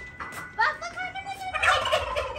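Turkeys in a village garden gobble in a few loud, quavering bursts, one after another, with no talking over them.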